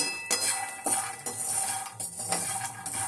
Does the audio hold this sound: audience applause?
no